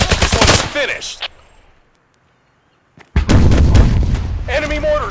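Enemy mortar fire in the video game Hired Ops, heavy booming blasts crowding the start and returning loudly after a near-silent gap, with shouted voices over the impacts.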